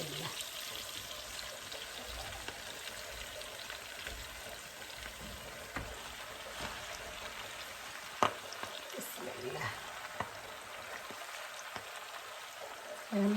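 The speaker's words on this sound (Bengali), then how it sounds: "পেঁয়াজ রসুনগুলো আমি একটু ভাইটা নিচ্ছি শুকনো মরিচ কাঁচা মরিচ দিয়ে দিচ্ছি" Onion and garlic fry in hot oil with dried and green chillies added, giving a continuous, even sizzle close by, broken by a few sharp clinks of a utensil, with a voice talking faintly underneath.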